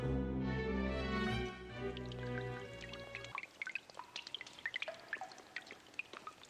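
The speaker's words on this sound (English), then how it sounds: "Also, the dripping sound effects." Water dripping in an underground setting in the Umineko visual novel, sharp irregular drops plinking one after another, alone after a sustained tonal music passage cuts off.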